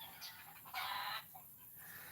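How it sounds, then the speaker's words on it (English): A chicken that has just laid an egg clucks faintly in a few short squawking bursts, with one louder call in the middle, heard at some distance against quiet background noise. "Sorry, chicken laying an egg."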